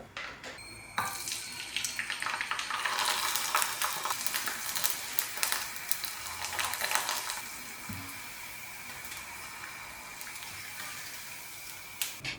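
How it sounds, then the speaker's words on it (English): Ready-made sabudana papadums deep fry in hot oil, a loud rushing hiss that swells for several seconds, then eases into a softer, steady bubbling fizz near the end. "Parallelly, I deep fry some ready sabudana papadums."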